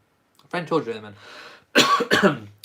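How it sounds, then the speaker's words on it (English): A couple of rough coughs come in short bursts, close up, with a brief pause between them. "Not Corona, just a cough."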